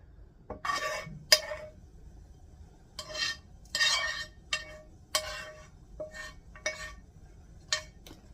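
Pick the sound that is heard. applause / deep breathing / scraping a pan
scraping a pan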